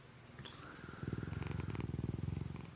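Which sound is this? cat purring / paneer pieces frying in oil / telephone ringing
cat purring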